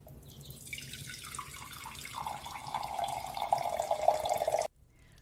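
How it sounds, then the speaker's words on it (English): Water pours steadily from a pitcher into a washing-up basin, the trickle swelling and rising as the basin fills before stopping abruptly; quiet, close, with no talk. "A pitcher, a basin, water carried and poured rather than turned on."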